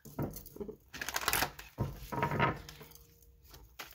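Tarot cards riffle and flap in short bursts, several brisk shuffles with quiet gaps between them.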